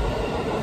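A JR train runs along the track with a dense, steady rumble of wheels and car noise, close and loud, in one brief continuous burst.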